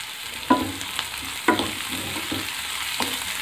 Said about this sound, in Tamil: வெங்காயம் சேர்த்துட்டு நல்லா வதக்கி விட்டுக்கோங்க